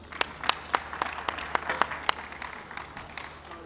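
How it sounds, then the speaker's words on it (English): A modest audience claps for a panel at a minerals-themed exhibition theatre talk; scattered, distinct claps ring out close by and thin out toward the end. "So please join me in giving a round of applause to our panelists."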